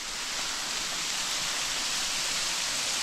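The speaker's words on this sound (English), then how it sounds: "this is a beautiful waterfall, and considering we haven't had much rain for a while, it's running pretty well." A waterfall in the Watagan bush, running well, pours as a steady, broad hiss of rushing water, constant and unbroken throughout, with no voices over it.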